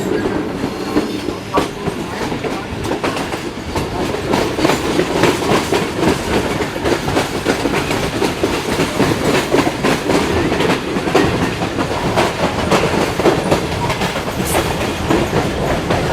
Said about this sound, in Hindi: बेहतरीन स्पीड में गुजरी है जी ट्रेन